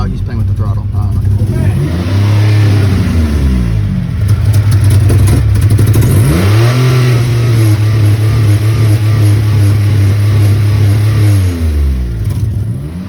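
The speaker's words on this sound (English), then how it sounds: "he's playing with the throttle" A motorcycle engine revved hard by someone working the throttle, loud and close, rising and falling in repeated sweeps between steady high idle stretches.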